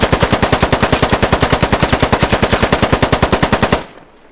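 A rapid, loud burst of automatic rifle fire in the video game Squad: about forty evenly spaced shots over nearly four seconds, cutting off abruptly into near silence.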